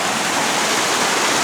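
Creek water rushing steadily down a mountain stream near Lake Lure, North Carolina, a dense, continuous close-up roar of flowing water with no other sounds.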